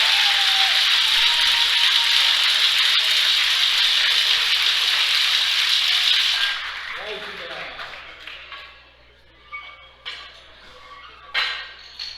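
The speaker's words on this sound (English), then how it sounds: "Standing ovation from the crowd." Loud, steady applause from a crowd at a classic men's bench press meet, sustained for about six seconds before stopping abruptly, leaving quieter room noise and scattered faint claps afterward.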